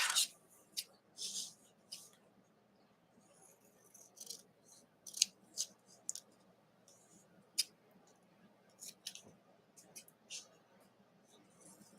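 Scissors snip and trim during a studio clean-up of folders, with a series of crisp, close cuts and clicks repeating irregularly in a quiet room.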